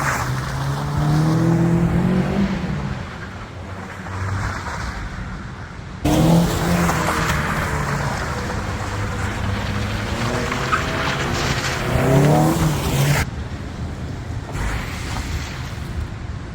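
A KA-engined Nissan 300ZX drifts on a slick surface, its engine revving loudly in steady, sustained pulls while the tires squeal, with two brief dips in level between bursts.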